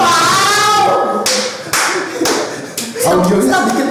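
Studio audience applauding on cue during an Indonesian talk show, several loud bursts of dense clapping broken by short pauses, close and filling the room.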